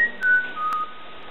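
A person whistles a few short, thin, pure notes inside the Drakelow Tunnels, a dim underground space, faint and slightly distant over a quiet hiss.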